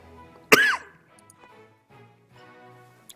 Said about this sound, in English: Just had a bit of a cough there.